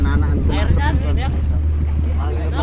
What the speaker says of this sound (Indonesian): Dengar angin sana ya